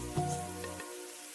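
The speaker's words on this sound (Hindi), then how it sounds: "वो देखो कैसे बारिश हो रही है।" Steady hiss of rain falling in an animated story set by a farm field, with a brief musical tone fading out partway through while the rain noise carries on alone.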